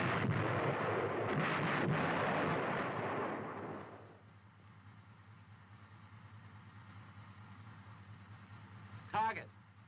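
Artillery fire in war footage: a heavy, rumbling blast fills the first few seconds and fades out, followed by a low quiet hum and a brief voice.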